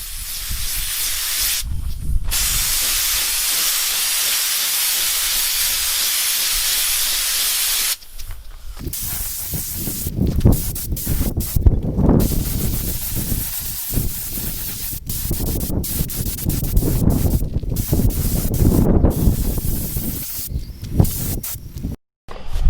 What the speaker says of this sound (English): this is the second and final coat of this of the Raptor liner